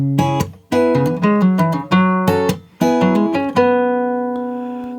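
Up-tempo guitar runs through bars 5 and 6 of a song, crisp picked notes with hammer-ons in quick phrases that end on a sustained chord ringing out, close and loud.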